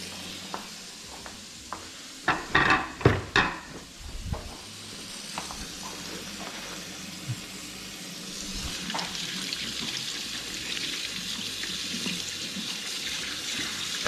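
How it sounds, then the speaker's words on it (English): Raw chicken rinsed under a running kitchen tap, opening with a few close clunks and splashes in the sink, then a steady, moderately loud rush of water pouring over the meat. "I'm gonna rinse everything off, and then just kind of like pat it dry."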